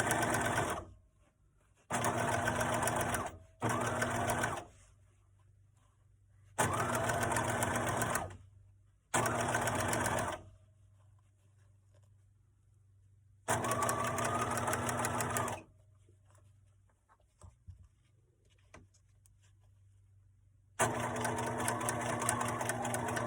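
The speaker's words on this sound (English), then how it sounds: "I'm smoothing it as I'm sewing" Sewing machine stitches a zipper into a make-up bag with its lining, running in several loud, steady bursts of a few seconds each, separated by quiet pauses.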